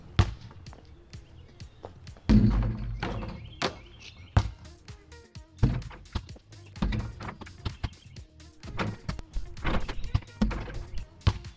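A basketball lands in and rolls through a homemade rebounder retriever during testing, making repeated sharp thumps and bounces at irregular intervals, some near and loud, others softer, with faint rattles between, and no talking.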